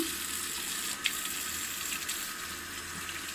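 Hands washed with soap under running tap water: a brief, steady, moderately quiet rush of water with faint splashes and no voice.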